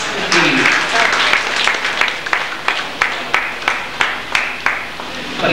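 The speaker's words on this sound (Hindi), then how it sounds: "जोरदार तालियां एक बार" Audience applause at a Hindi book seminar, dense continuous clapping with a few sharp individual claps standing out, loud and close, with voices mixed in underneath.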